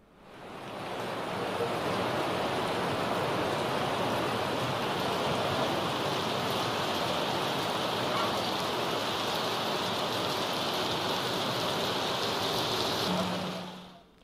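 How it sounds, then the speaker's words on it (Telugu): Heavy rain pours steadily over Hyderabad during a depression-driven downpour, a dense, unbroken roaring hiss that holds evenly for the whole stretch with no voices. "హైదరాబాద్ వ్యాప్తంగా విస్తారంగా వర్షాలు కురుస్తున్నాయి"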